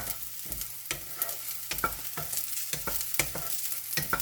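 Sliced bitter gourd rings, seeds removed, fry in oil. A soft steady sizzle is broken by repeated sharp scraping and stirring strikes of a spatula against the pan, loud and close, with no voices.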